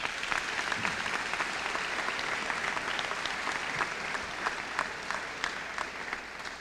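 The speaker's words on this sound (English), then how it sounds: "Ladies and gentlemen, please give all the workers a round of applause" An audience at an Arkansas aerospace and defense workers appreciation day breaks into steady, dense applause, many hands clapping evenly throughout at moderate volume.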